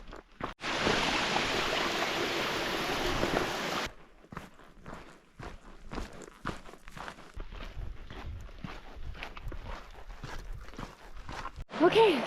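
River crossing on a solo backpacking hike: a few seconds of loud rushing water, then a run of close, uneven footsteps and splashes picking across the river.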